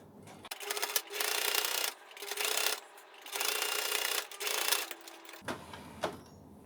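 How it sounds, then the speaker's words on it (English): A sewing machine stitches along the edge of a piece of fabric, running in three steady bursts of mechanical whirring separated by short pauses, fairly close and heard on its own. "I'll sew this bit."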